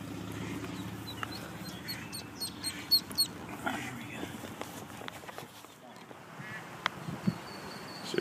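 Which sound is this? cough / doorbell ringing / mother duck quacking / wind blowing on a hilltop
mother duck quacking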